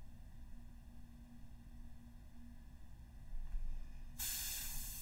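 A detail airbrush spraying India ink lets out a soft steady hiss that jumps to a louder, brighter spray in the final second, with no talking.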